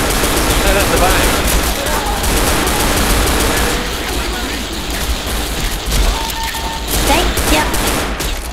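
Dense, continuous gunfire from several weapons in Left 4 Dead on a Silent Hill campaign map, loud sustained volleys with faint voices mixed underneath.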